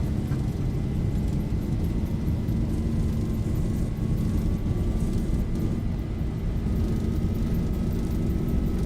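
Steady, loud roar of simulated Zibo 737 airliner engines at takeoff thrust during the takeoff roll, a constant broadband rumble with a faint rising whine, no talking over it.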